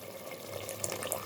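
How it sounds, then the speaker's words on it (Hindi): Water pours into a pot of chicken pulao, a steady close running stream with light splashy detail, fairly soft and continuous, with no voices. "आधा कप हमने इसमें पानी का शामिल करना है"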